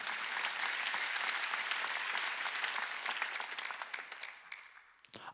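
A church congregation applauds during a Wednesday worship service, a dense, steady wash of many hands clapping that carries on for several seconds, then fades and thins toward the end.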